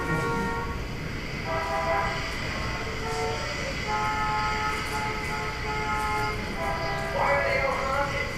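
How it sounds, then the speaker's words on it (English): Several horns honk in overlapping sustained tones under a rumbling, vehicle-like background. A few blasts swell and fade across the stretch, and people talk over them now and then. "Why are they all honking?"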